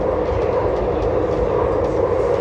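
An MTR C-Train runs on Hong Kong's West Rail Line, its loud, steady rumble and low roar of traction and wheels on track continuing evenly throughout with no talk.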